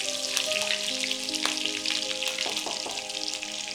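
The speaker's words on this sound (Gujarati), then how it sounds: "સફેદ તલ ઘી સાથે ફ્રાય થશે" White sesame seeds and green chillies fry in ghee for a brinjal curry, giving a close, steady sizzle with fine crackling and a few sharper pops, no voices over it.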